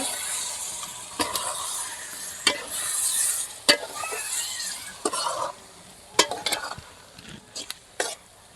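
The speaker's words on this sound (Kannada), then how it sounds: "ಇವಾಗ ಬೇಯಿಸ್ಕುದತ್ತೆ ಇವಾಗ ಒಂದು ಸ್ವಲ್ಪ ತಿರ್ಸ್ಕೊಂಬಿಡೋಣ" A spoon stirs palak curry base with egg frying in a pan, giving intermittent scrapes and metallic clinks over a soft, continuous sizzle.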